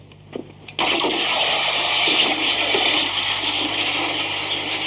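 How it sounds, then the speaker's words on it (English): Hot metal inlaid with gold is plunged into cold water, bursting into a sudden loud, sustained hiss of steam and bubbling that continues steadily after a few faint taps. "I just quench it in cold water"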